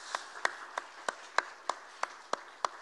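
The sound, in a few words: church congregation applauding to welcome a missionary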